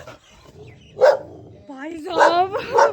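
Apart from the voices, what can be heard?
dog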